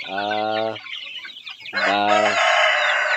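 A rooster crows loudly twice, close by, with chickens clucking and squawking around it on a small poultry farm.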